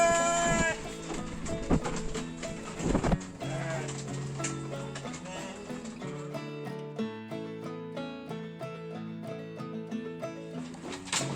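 Merino sheep bleat repeatedly while jostling for silage in a pen, many overlapping calls of varied pitch forming a dense, continuous chorus close by, with faint talk in the background.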